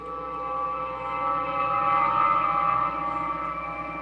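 A teleporter beam-up sound effect played on a radio show, a steady warbling, siren-like tone with layered harmonics that swells slightly and holds for several seconds, loud and alone with no talking.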